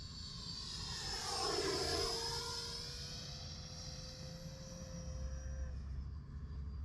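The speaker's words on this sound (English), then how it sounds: "Man, this is a nice jet." An Arrows RC Viper 50mm electric ducted-fan model jet makes a high-speed pass, its shrill fan whine swelling as it approaches, sweeping down in pitch as it flies by, then fading into the distance.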